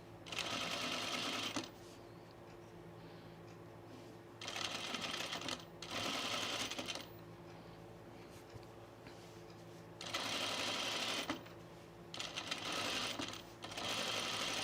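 A sewing machine stitches pin tucks on a sleeveless top, running in several short, fast bursts of rapid needle clatter separated by quiet pauses, close and fairly soft.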